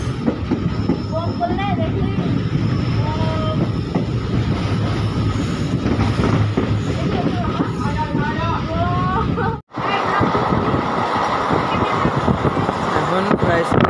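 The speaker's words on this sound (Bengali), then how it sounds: "1 মিনিট দাঁড়ানোর পরে আদিনা স্টেশন ট্রেন ছেড়ে দিল" Malda Town–Katihar daily passenger train pulling out of Adina station, a steady loud rumble and rattle of the railcars with clickety-clack, running continuously under a talking voice, with a brief dropout near the end.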